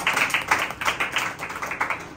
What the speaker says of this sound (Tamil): கைத்தட்டி ஆண்டவரை மகிமை பார்க்கலாமா?